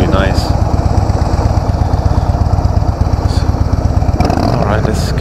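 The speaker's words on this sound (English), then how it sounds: "Let's hear what the exhaust sounds like." A 2016 Harley-Davidson Softail Deluxe engine idles steadily with a low, throbbing exhaust rumble throughout, close by and loud, with a brief rev near the end.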